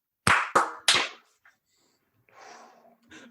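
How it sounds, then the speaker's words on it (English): Three sharp, close hand claps ring out in quick succession, followed by near silence and faint low room sounds. "I would like one clap test right now"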